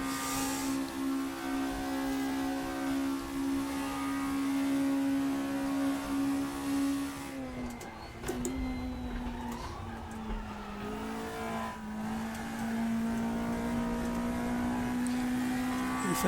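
Front-wheel-drive race car in Raceroom, its engine droning steadily at high revs with a gear change and brief dip, pitch sliding and climbing again amid faint tyre squeal as the front end struggles for grip.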